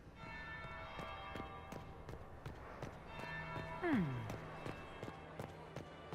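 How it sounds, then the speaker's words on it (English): A bell tolls in the Dragon Age: Inquisition video game, with repeated ringing strikes and lingering resonant tones over a soft background, plus a brief sliding vocal sound partway through. "That would be the second bell."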